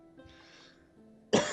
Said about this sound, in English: It's sort of like a dry cough.